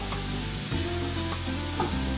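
Cauliflower stir-fry with ginger, coriander, lemon juice and lemon rind sizzles steadily in a pan while being given a quick stir, with a few soft scrapes over the continuous frying hiss.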